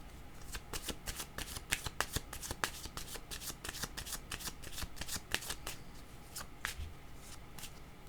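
Playing cards shuffled repeatedly during a card reading, a steady run of crisp riffling flutters and sharp snaps, close and moderately loud with no voice.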